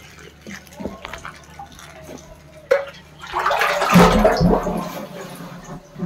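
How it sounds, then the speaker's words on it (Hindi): Water pours and splashes out while a household water tank is being cleaned, rising into a loud gush after a few quiet seconds with faint drips and knocks before it. "इधर पानी गिर रहा है और इधर इस तरह ही गिरा रहा है"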